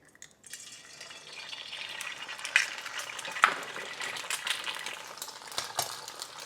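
Eggs frying in a hot pan give a steady, close crackling sizzle, with a couple of sharp metallic clinks partway through.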